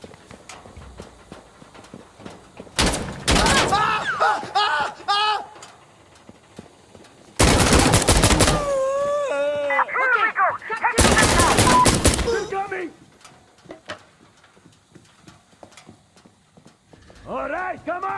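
Gunfire in Insurgency Sandstorm comes in loud bursts of rapid automatic shots, three separate volleys. Shouting in-game voices and combat noise sit between them, and the shooting ends in quieter rustling.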